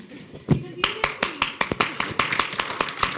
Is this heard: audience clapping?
yes